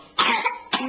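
Someone coughs twice close by, two quick harsh bursts in under a second in a quiet room.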